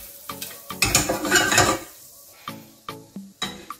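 Butter melting in a pan for a small béchamel is stirred with a utensil, giving a burst of scraping and soft sizzling, then several sharp clinks of the utensil against the pan, close and loud with no talking.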